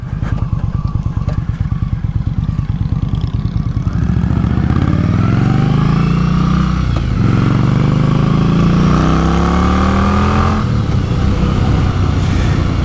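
An Indian Scout Bobber cruiser motorcycle engine rumbles with a deep, loping exhaust note, then revs up and pulls away loudly, its pitch climbing through the gears.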